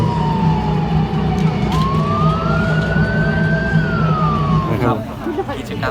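An ambulance siren wails with a slowly rising and falling pitch, loud and close, for about five seconds before it cuts off, during an open-house event at a Thai army infantry regiment.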